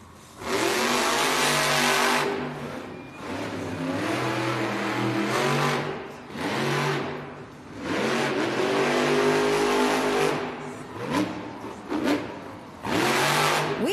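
Monster truck Terminal Velocity, driven by John Zimmer Jr. in a Monster Jam racing run at a Baltimore arena, roars with loud, close engine revving that surges repeatedly in long bursts, dipping briefly between throttle blasts.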